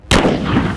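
A single loud rifle shot from a .308 Winchester firing DRT Terminal Shock ammunition, outdoors against a pork shoulder and brick target, with a sharp crack and a rolling boom that carries on. No talking.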